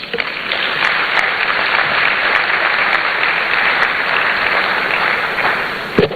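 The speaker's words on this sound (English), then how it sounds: "Ladies and gentlemen, a better round of applause for Mr. Eric Ajay, Esquire." Sustained audience applause at the launch of a student entrepreneurship and enterprise development programme, a dense, steady wash of many hands clapping at even loudness for about six seconds, with no voices over it.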